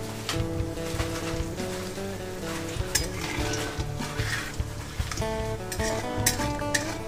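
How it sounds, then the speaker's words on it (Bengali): Cumin seeds and split bay leaves crackle and sizzle in hot oil left from frying potatoes, a busy close hiss dotted with pops and clinks, while steady tonal music plays underneath. "জিরে ও তেজপাতা কিন্তু ভাজা হয়ে গেছে।"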